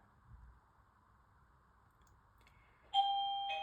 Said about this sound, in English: interrupted by the doorbell, or maybe I should say saved by the doorbell